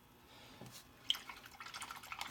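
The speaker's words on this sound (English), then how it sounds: "Now that I've dipped that in the water, it is donezo." A paintbrush dips into a cup of water, giving a few faint close drips and a small splash followed by soft trickling, alone in a quiet room.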